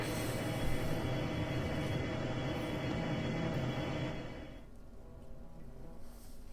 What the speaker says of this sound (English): Time to ride the train.